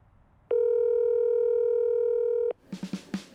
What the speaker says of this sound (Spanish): Me contestó el teléfono.